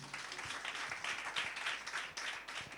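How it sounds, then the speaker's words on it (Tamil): A Sunday church congregation claps for its pastor, a soft, moderately dense round of applause heard from a distance throughout. "உங்கள் பாஸ்டருக்காக ஒரு கைத்தட்டு கொடுங்க"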